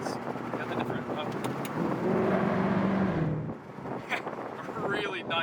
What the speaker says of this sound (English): the exhaust is what's really good